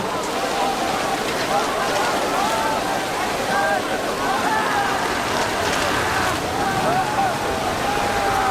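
Rain falling steadily and fairly loud, a dense continuous patter across the whole stretch, with faint voices or music lines running underneath.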